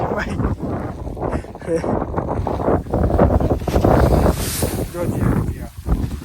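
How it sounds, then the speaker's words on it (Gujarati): Outdoor wind gusting and buffeting a microphone in open country, a steady low roar that swells and eases throughout, with people talking over it. "પવન છે ને"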